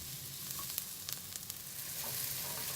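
Onions frying in masala in a pan give a steady, close hiss, broken by a few light scrapes and taps of a stirring spoon.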